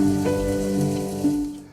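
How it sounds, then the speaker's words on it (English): The rainy-day nature ambience built into a 2024-2025 Kia Sorento's audio system plays as an even, close patter of rain with a soft tonal hum beneath, steady and alone before fading at the end. "so it's nice like ambient noises instead,"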